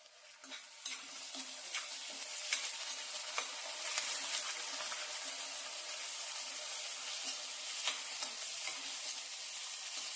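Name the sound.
onion frying for banana stem stir-fry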